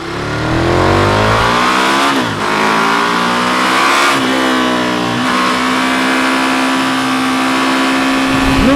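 A KTM Super Duke 1290 R, a big twin-cylinder motorcycle, accelerates hard through several gears, its loud rising engine howl dropping briefly at each shift before climbing again, heard close from on board.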